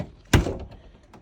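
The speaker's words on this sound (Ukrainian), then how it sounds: "Откриємо двері." A single dull thunk of a BMW E46 car door latch releasing, close by, followed by faint rattling in an otherwise quiet space.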